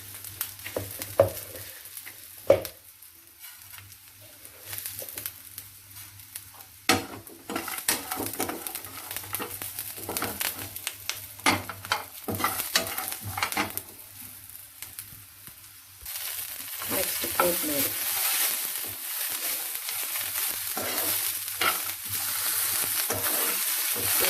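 Curry leaves and cumin seeds hit hot oil in a pan, crackling and sizzling steadily for the whole stretch, with a few sharp clinks of a utensil early on and the frying growing louder and denser toward the end.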